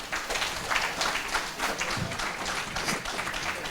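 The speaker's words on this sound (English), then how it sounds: "Can we clap for them, please?" An audience at a free zones conference session claps for a panel, moderately loud and uneven, with scattered individual claps in a short burst.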